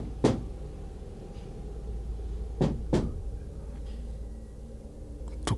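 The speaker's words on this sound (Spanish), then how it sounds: "Tocó 2 veces." Two quick knocks land on a truck door in the middle of a low steady rumble, with single dull thuds before and after them.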